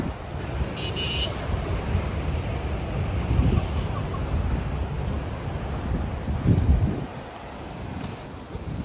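Steady roar of ocean surf mixed with gusty wind buffeting the microphone, continuous and fairly loud, with no talking.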